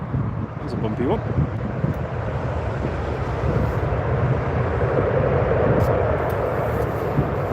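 A Jet2 airliner comes in to land at Newcastle International Airport in wet, windy weather, making a loud, continuous roar of engines that swells gradually. Wind buffets the microphone throughout, and no speech is heard.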